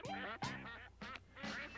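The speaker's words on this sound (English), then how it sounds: "It's a virtual UN delegation of wind-up ducks from around the world." Wind-up toy ducks quack in a 1978 Pink Panther cartoon, a series of several nasal, squawky quacks in quick bursts, close and fairly clear over a quiet background.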